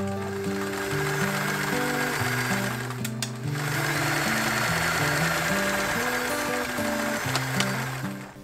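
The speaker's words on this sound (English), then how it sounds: "the first thing I'm going to do is just to sew and serge the side seam" A sewing machine and a serger stitch the side seam of a vintage-style dress, their motors running in a steady, continuous whir for the whole stretch, with background music playing underneath.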